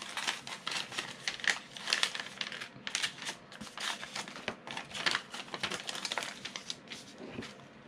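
Paper envelope from an Etsy order being handled and torn open, a close, continuous run of crinkling, rustling and ripping.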